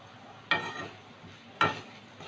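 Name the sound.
potato and onion frying with cumin and Kashmiri chilli powder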